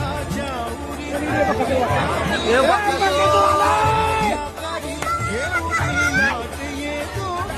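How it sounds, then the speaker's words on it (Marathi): A large crowd gathered at a bullock cart race to see the bull Bakasur chatters and shouts loudly, with many overlapping voices, yells and calls rising and falling throughout. "तुम्ही सांगितलेले पेक्षा जास्त गर्दी झाली बाकासूरला बघायला गर्दी"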